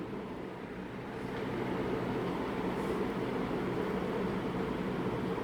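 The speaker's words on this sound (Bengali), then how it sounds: "রেল স্টেশনে ট্রেন থামার শব্দ।" A steady low rumble of a train pulling into a railway station to stop, growing slightly louder after the first second and holding evenly, with no voices.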